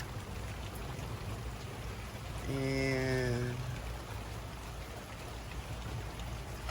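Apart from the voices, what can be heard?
rain falling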